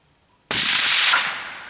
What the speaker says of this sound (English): That was a chest shot on the plate.